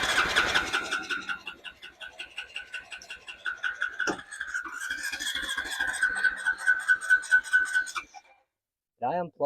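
A Honda engine on a golf cart, run after sitting ten years, cranks and catches, then runs unevenly in rhythmic pulses for several seconds before cutting out abruptly; a whistly tone rides over it and a brief sound follows the silence.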